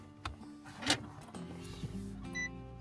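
A Vauxhall Mokka EV electric car powering on: quiet electronic chimes, a brief whir and soft relay clicks as the systems buzz into action, close and fairly faint.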